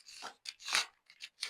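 Scissors cutting through fabric for a bubble sleeve, about five quick crisp snips in an uneven rhythm, close and fairly clear, with no talking.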